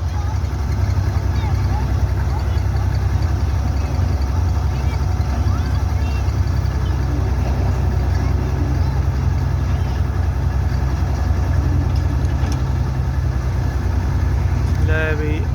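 A farm machine that had been stuck, with 360 and 375 tractors failing to pull it free, now runs after being started: a loud, steady low engine rumble held throughout, with people talking over it.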